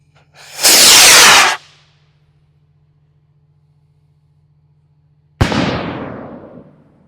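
Mean Machines KC firework rocket: a loud hissing whoosh on launch lasting about a second, several seconds of quiet, then a sharp outdoor burst with a long fading crackle and echo.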